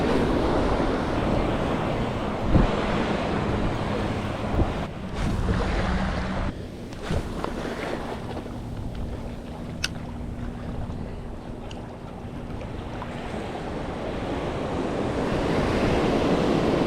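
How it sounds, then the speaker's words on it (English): Ocean waves breaking on a beach during surf fishing, a steady loud roar of surf with wind buffeting the microphone, close and continuous. "I'm kind of running from these waves right now"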